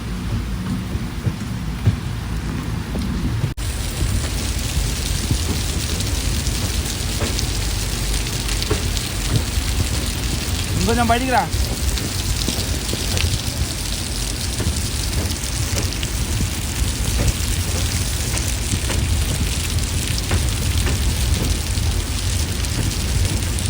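Heavy monsoon rain pours steadily outside a moving train on the Mangaluru to Yesvantpur route through cloud-covered hills, a dense, continuous hiss close by, with a brief soft voice partway through.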